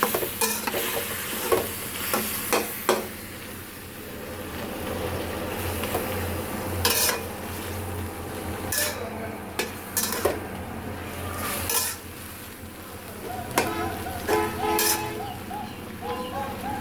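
Wilted malabar spinach with prawns being stirred in a pan: repeated scraping and clinks of a spatula over a low sizzle, with birds calling faintly in the background.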